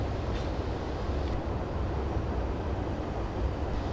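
A Class 150 diesel unit coasting at about 25 in Train Simulator 2015 on the Exeter to Barnstaple line, approaching Umberleigh station: a steady, moderately loud low rumble of wheels and running gear with no talking.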